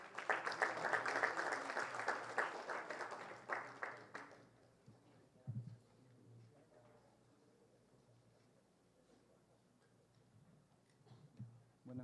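Strong applause from an audience in a hall greeting a speaker at a legal lecture, dense clapping for about four seconds that then thins out and fades into quiet room noise.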